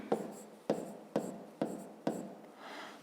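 Pen strokes on paper while solving a square-area problem in a fifth-grade maths lesson: five sharp scratchy bursts roughly half a second apart, each fading quickly, close and fairly quiet with no talking.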